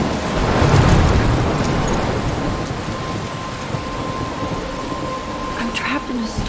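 A video game thunderstorm: a deep thunder rumble swells early and then fades under a steady, heavy wash of rain that continues throughout, loud and close.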